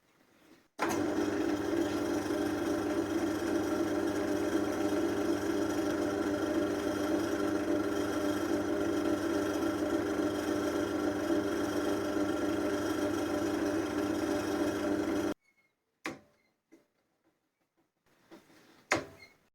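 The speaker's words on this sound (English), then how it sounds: "now I'm going to clean up the resin parts with some cutting compound" A wood lathe spins steadily while resin and laburnum wood are polished with cutting compound, giving a continuous even hum and whir for about fifteen seconds before stopping abruptly, followed by a few faint knocks.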